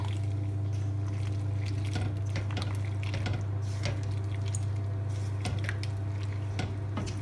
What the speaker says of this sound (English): We'll mix these veg through.